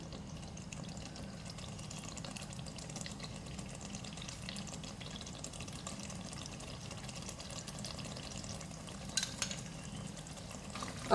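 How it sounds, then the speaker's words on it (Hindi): Cream is stirred into a simmering restaurant-style veg handi: a soft, steady wet stirring and gentle sizzling, close and quiet throughout, with a faint clink near the end. "अब मिक्स करूंगी इसको"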